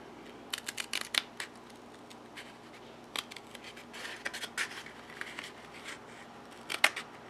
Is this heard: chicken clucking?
no